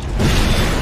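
A short, loud explosion boom from a Skibidi Toilet animation, a single dense burst that stays full for under a second.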